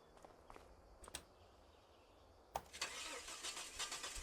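In Farming Simulator 25, a few faint footsteps and clicks come first, then a truck engine cranks and starts, settling into a steady mid-pitched hum that carries to the end.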